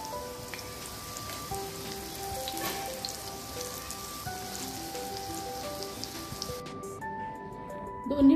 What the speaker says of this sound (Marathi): दोन्ही बाजूंनी छान खरपूस आळूवडी तळून घ्यायची आहे।